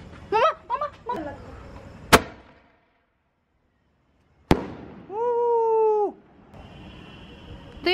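Fireworks bursting outdoors: a few crackling pops, then two sharp loud bangs separated by a quiet gap, followed by a rising whistling screech, with a faint voice early on.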